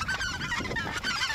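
Geese honk loudly and continuously in a dense chorus over blustery wind during a duck and goose hunt in a blizzard, the calls close and layered.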